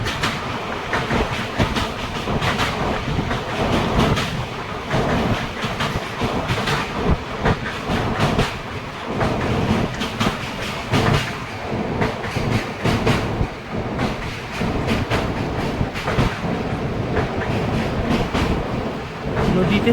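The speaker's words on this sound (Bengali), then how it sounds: "ট্রেন এখন দামোদর নদীর উপর দিয়ে যাচ্ছে" The Tatanagar-Asansol Express crosses a bridge over the Damodar River at dusk, with a continuous loud rumble and clickety-clack of wheels on rails lasting the whole stretch.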